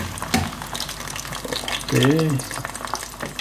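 Peanuts sizzle steadily in a hot pan of oil while adobong mani is cooked, a continuous close crackling frying sound under a brief spoken word.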